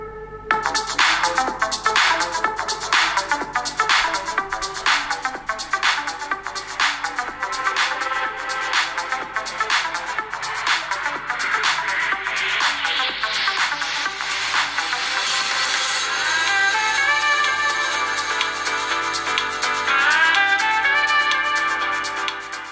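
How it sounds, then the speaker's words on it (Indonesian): Music played at maximum volume through the single bottom-firing mono speaker of a Samsung Galaxy M21 phone, a steady loud melodic track with rhythmic beats throughout, bright and somewhat thin. "Samsung Galaxy M21 ini cuma ngandelin satu speaker mono di sisi bawah HP"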